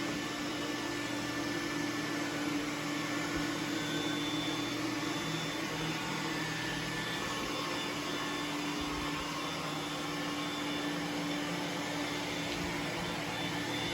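Two robot vacuums, a Roomba S9+ on high suction and a Roborock S4, run side by side in a steady, unbroken whirring drone with a constant motor hum, close and even throughout, with no talking.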